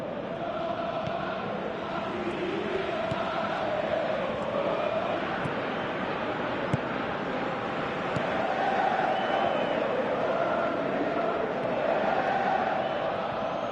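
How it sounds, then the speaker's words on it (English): Crowd noise from a football match in Pro Evolution Soccer 2017, a steady, dense roar with swelling cheers that rises and falls across the whole stretch, fairly loud and continuous, with no voices standing out above it. "Crowd appreciates good football all round there"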